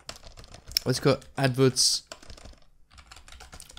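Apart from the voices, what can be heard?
typing on a computer keyboard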